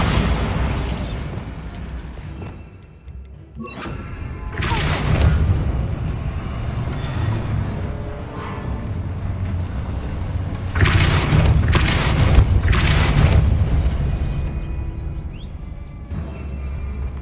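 Bombarda spell blasts in the video game Hogwarts Legacy, a run of loud booming explosions with rumbling tails and debris crashes, several heavy bursts spread across the stretch with no speech.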